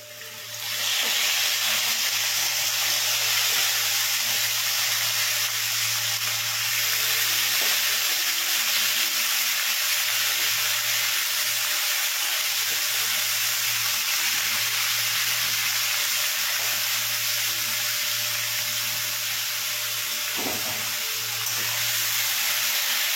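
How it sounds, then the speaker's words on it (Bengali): Marinated chicken fries with potatoes in a pot, a loud, sustained sizzle and hiss that keeps going without a break, with faint stirring knocks and a low steady hum, no one speaking. "এবার ম্যারিনেট করে রাখা চিকেনটা দিয়ে দেবো এর মধ্যে।"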